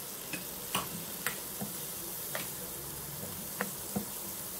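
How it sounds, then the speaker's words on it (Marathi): Garlic, finely chopped onion and a little ginger frying in butter for a spinach soup, giving a steady soft sizzle with light spoon taps and scrapes against the pan every second or so. "भरपूर भाजून घ्यायचं लसूण, तर त्याचा छान स्वाद येतो।"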